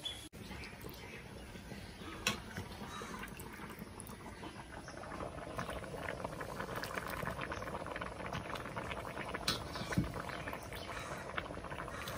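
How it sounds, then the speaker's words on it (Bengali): Rice and lentils boiling together in a pot give a continuous soft bubbling and gurgling, faint and steady throughout with a few small sharper pops. "এদিকে তো চাল আর ডাল একসাথে ফুটছে।"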